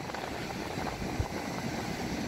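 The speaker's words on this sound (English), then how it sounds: "Try and shelter you guys from the wind." Wind blowing on the Norfolk coast, a steady broadband rush and low rumble across the microphone, continuous and fairly quiet, with no voices.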